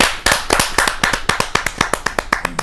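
A few people clapping for poet Madhu Mohini Upadhyay at a kavi sammelan, sharp separate handclaps in a quick, fairly regular run, close and distinct rather than a full crowd.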